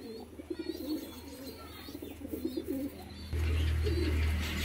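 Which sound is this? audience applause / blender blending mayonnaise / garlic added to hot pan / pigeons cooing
pigeons cooing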